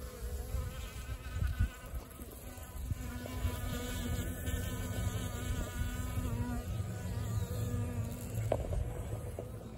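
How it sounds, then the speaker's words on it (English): Honeybees swarm a ceramic bird filled with honey, their close, steady buzzing holding throughout with wingbeat drones rising and falling as insects pass near. "Favorite is the ceramic bird filled with bees."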